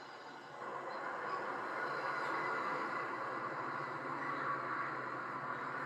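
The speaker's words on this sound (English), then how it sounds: "it was a very short little passenger train" A short O gauge model passenger train rolls along the layout, giving a continuous, even rumbling clatter that starts after a brief quiet moment and carries on with no voices.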